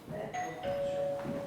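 A doorbell rings inside a home, two clear tonal chimes close by, the second held and slowly fading, with no voices over it.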